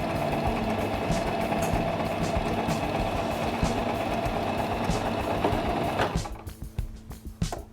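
Singer mechanical sewing machine stitching a full line, a steady rapid mechanical whirring and ticking that runs evenly for about six seconds, then stops, leaving a few faint clicks.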